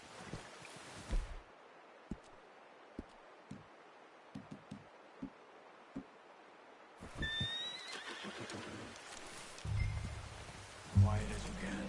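A video-game horse lets out a loud whinny, with scattered clip-clop hoof steps before it and rain pattering on surfaces; characters talk nearby.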